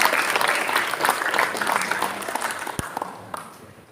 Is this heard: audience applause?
yes